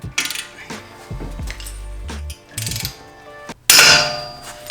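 A sharp metallic crack and clatter as a socket bit breaks amid grinding and ratcheting tool noise, with a loud burst of mechanical noise near the end.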